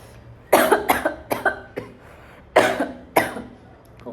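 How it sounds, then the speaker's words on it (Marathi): A person with a cold gives a series of about six close, harsh coughs in two bursts, separated by a short pause. "खोकला पण येतोय मला."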